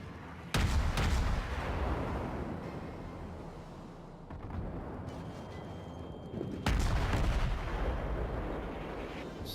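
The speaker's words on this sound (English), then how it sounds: "Sounds like rockets almost." Heavy naval gunfire in the World of Warships video game, with booming, rocket-like salvos at the start and again near the end, and a dense rumbling barrage in between.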